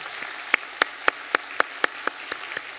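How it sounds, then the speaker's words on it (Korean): Church congregation clapping to welcome a new family during a Sunday service, heard as a sparse series of about nine separate claps spaced roughly evenly, fairly faint over a quiet room. "박수로 환영하겠습니다."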